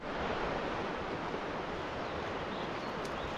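Beautiful Elk Creek rushing along a Colorado Trail crossing, a steady broadband wash of flowing water filling the whole moment, close and continuous with no talk.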